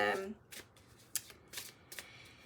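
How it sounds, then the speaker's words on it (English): Tarot cards being shuffled close up, a series of quick riffling bursts and soft slaps at an uneven rhythm, fairly quiet. "shuffling the cards"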